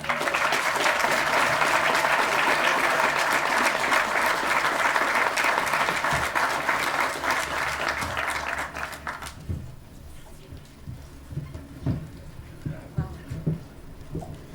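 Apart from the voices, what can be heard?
applause for a speaker at a ceremony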